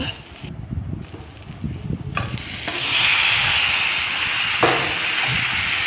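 Mixed vegetables go into a hot pan with a few stirring clatters, then a loud, steady sizzling hiss rises and continues up close to the end.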